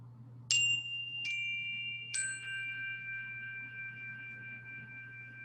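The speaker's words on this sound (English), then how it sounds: "When you reach the end of the path, you're going to hear these 3 chimes." Three bright chimes ring out one after another, each leaving a long, clear tone that lingers and slowly fades over a quiet low hum.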